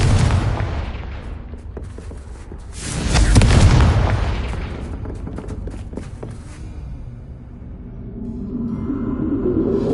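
Confringo fire spell blast in Hogwarts Legacy, a loud, close booming explosion swelling mid-clip over rumbling game ambience and crackling debris, fading into a low roar.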